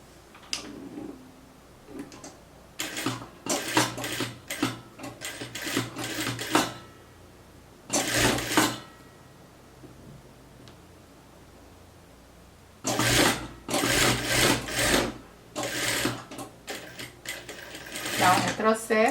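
A home sewing machine stitches the folded, chalk-marked end of a beginner's blouse in quick whirring runs that stop and start, with a long pause in the middle and someone talking between the runs.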